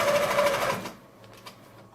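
A Butler Robotics longarm quilting machine starts sewing, a steady loud motor whir with rapid stitching that cuts off after about a second, leaving quiet room sound and a faint knock.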